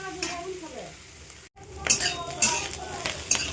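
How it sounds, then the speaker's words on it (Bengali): Fish roe and egg, seasoned with turmeric and salt, are stirred and fried in a pan. A steady sizzle runs under repeated scrapes and clinks of a utensil against the pan, followed by a brief silent gap. "এবার ভালো করে নাড়াচাড়া করে মিডিয়াম আছে আমি এটা ভালো করে ভাজা ভাজা করে নেব।"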